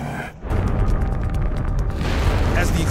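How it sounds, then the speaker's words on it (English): A chemical plant explosion erupts in a heavy, roaring blast after a brief lull, with rumbling booms and crackling debris sustained for several seconds, loud and close. "As the explosion erupts,"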